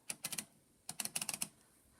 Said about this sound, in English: So it is a typewriter.